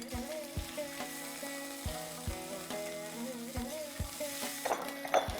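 Broken cashews and ginger garlic paste fry in a pan, giving a soft, steady sizzle with periodic scraping clicks from stirring, faint and close, over a low tonal background.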